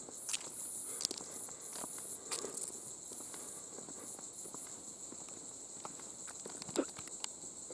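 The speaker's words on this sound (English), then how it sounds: "it's a lovely spot where you can hear the sounds of the trees and the insects in the" Crickets and other insects chirp steadily at a park picnic spot at Langford Park, Jarrahdale, with a few soft footstep-like scuffs and light rustles scattered through.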